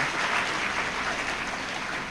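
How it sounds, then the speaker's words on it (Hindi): An audience at a spiritual talk by Pandit Vijay Shankar Mehta bursts into dense, steady applause, many hands clapping loudly throughout without any speech. "आप तो अपने लिए ताली बजाओ एक बार"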